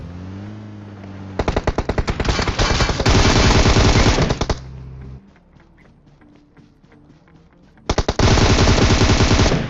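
Bursts of rapid automatic gunfire from a battle royale video game, loud and close, with long sustained volleys separated by a quieter stretch of scattered single shots and game ambience.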